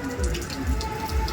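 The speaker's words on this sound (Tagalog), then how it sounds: "kahit na malakas ang ulan, basang-basa na po ako ng ulan" Heavy rain pouring outdoors, a steady dense patter of drops striking surfaces close by, loud and continuous with no voices.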